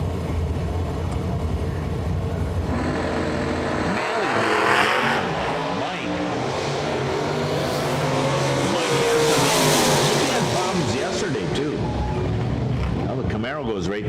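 A drag racing car at Yellow Bullet Nationals launches off the starting line with a loud, roaring engine and screeching tires, sustained and building over the clip, under announcer commentary.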